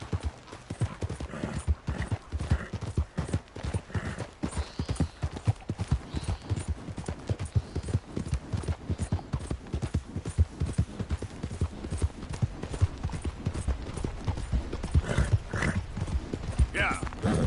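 Steady clip-clop of horse hooves on a hard surface, continuous and fairly close, with people talking intermittently over it.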